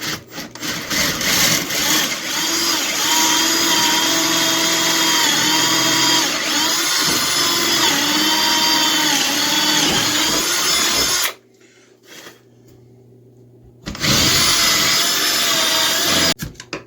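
A power drill fitted with old bits bores into a wooden hatchet handle near its metal wedge, a loud, close grinding whine that runs continuously, cuts out for a few seconds, then starts again.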